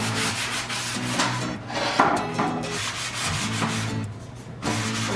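Steady hand sanding of a wooden chalkboard frame to take off old glue, a rough rasping scrub repeating in back-and-forth strokes at close range with only brief murmured words.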